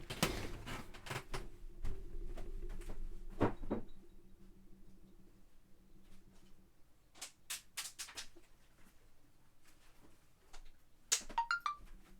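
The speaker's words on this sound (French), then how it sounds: "Je crois que j'ai mes sonneries qui sont beaucoup trop fortes" Short electronic ringtone chimes and beeps sound in scattered bursts over quiet room noise, with a brief tonal melody near the end, played too loud.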